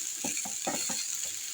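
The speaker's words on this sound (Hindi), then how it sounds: "मेथी डालते हुए मेथी को भी चलाएंगे थोड़ा सा" Fenugreek leaves being stirred with garlic in a hot frying pan for a prawn dish: a steady sizzle of frying runs throughout, broken by about five soft scraping stirs of a spoon, close and moderately loud, with no talking.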